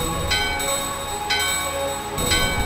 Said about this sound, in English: The bell in your hand and the doorbell are ringing, and the bell in your hand shatters